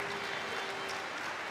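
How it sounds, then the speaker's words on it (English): Home crowd applauding at a Newcastle Eagles versus Leicester Riders basketball game, a brief, steady wash of clapping from the stands in an indoor arena. "the home fans on their feet to applaud Rowe off the court,"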